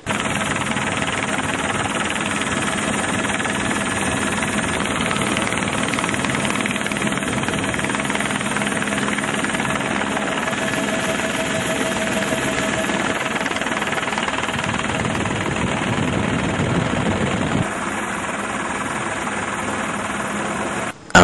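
A helicopter's rotor and engine drone continuously and loudly, a steady throbbing whine that holds throughout with only a brief drop near the end.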